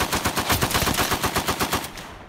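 A German assault rifle fires in a rapid automatic burst of about a dozen close, loud shots that trail off into a brief echo.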